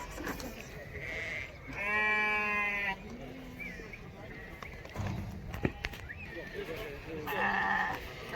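Sheep with lambs bleat in a crowded livestock market, a long clear bleat standing out among other calls, with hoof clatter and people talking nearby.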